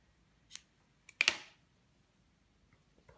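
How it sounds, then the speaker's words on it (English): Scissors snipping through wool yarn while finishing a crocheted granny square, one short close snip followed by a sharper double cut, quiet in between. "What I do is cut the wool,"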